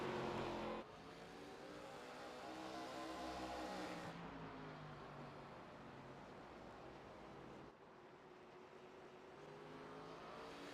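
Race cars on the Irwindale oval in iRacing, a dense layered engine roar from several cars at once, fairly quiet overall, sustained with a sudden drop after the first second and a slight fade later.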